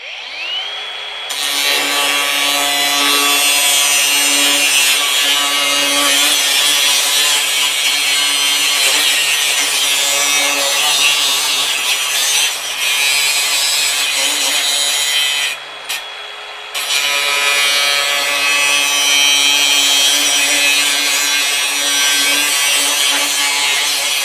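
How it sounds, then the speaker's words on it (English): An abrasive cutting wheel grinds through steel in a loud, continuous high-pitched screech with steady humming tones beneath. It spins up at the start and cuts without a break, apart from one brief dip and pause near the end. "let's cut it with the abrasive wheel"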